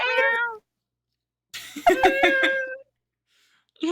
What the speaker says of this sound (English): There's a cat talking back.